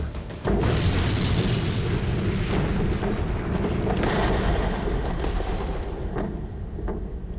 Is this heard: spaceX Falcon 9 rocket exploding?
yes